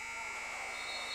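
A steady, fairly faint electronic buzzer tone holds throughout at a women's college basketball game, the shot clock sounding as a quarter nears its end.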